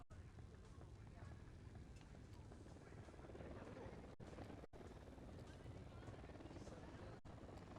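Helicopter rotor thumping in the video game Ghost Recon Wildlands, a steady loud drone that fills the whole stretch with dense low rumble and broadband noise, with brief dropouts.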